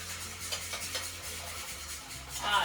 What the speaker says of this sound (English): I'm gonna keep mixing my paste